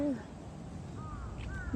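Crows caw outdoors at the old palace grounds in Tokyo, a couple of drawn-out calls at moderate distance over a steady murmur of crowd and ambient noise.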